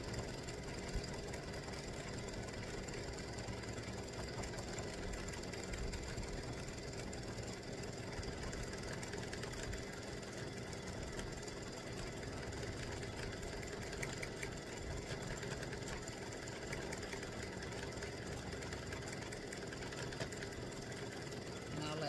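A sewing machine runs in a steady, continuous drone while stitching tic-tac-toe game pieces, with a fresh needle after the thread shredded. It hums quietly and evenly throughout.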